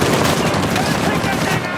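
A machine-gun turret hammers out sustained automatic fire in Uncharted 4, a loud unbroken rattle with a voice briefly shouting over it.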